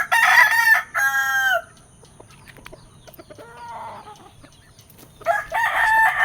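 Chickens crow loudly in short bursts, with quieter clucking in the pauses between, close by on a farm.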